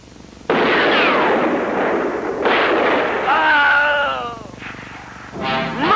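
Gunfire and artillery blasts in a film battle scene set during the Macedonian revolution: loud, sustained broadband volleys in two heavy waves, with shrill whistling tones rising over the second and a final burst near the end.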